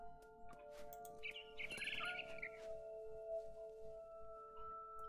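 A small bird chirps in What Remains of Edith Finch, a quick burst of bright tweets over a sustained humming music bed, fairly quiet and alone.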